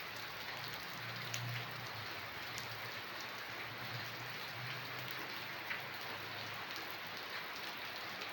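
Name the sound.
heavy rain falling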